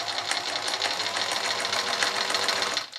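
Sewing machine running steadily at close range, stitching around the edge of a quilt in a crochet-and-quilting project, a continuous whirring buzz with rapid needle chatter that holds even throughout before easing off at the very end.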